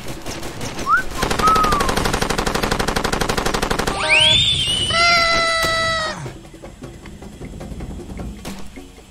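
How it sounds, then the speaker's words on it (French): Rapid machine-gun bursts in the video game Far Cry 2, loud and sustained for several seconds, with in-game music, whistling and shouts mixed in before the firing eases into a quieter background. "J'arrive pas à voir qui me tire dessus."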